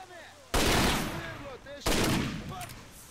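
Two loud, close bursts of gunfire in the shooter game STALKER, each a sharp crack with a ringing tail, separated by about a second of quieter background with faint tones.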